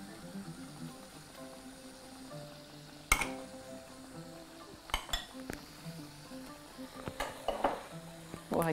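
Sugar, baking soda and baking powder being stirred in a bowl for mini waffle batter, a soft scraping swirl punctuated by several sharp utensil clinks against the bowl at irregular intervals.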